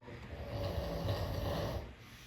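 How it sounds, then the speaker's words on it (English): Steady, close snoring with a soft, rumbling breath held for about two seconds, heard alone in a quiet room. "That's quite a snore you got over there."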